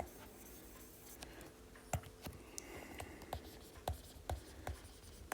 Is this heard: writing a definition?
yes